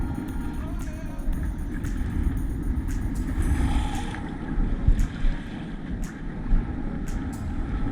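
Strong wind roars across the microphone on a fishing boat, making a heavy, continuous low rumble that swells in gusts, with a few faint clicks over it.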